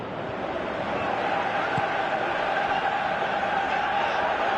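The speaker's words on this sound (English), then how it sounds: "you can feel and hear how the crowd are reacting to all of this" A football stadium crowd murmurs and roars steadily in the background throughout a cup match, a broad distant wash of many voices without distinct cheers.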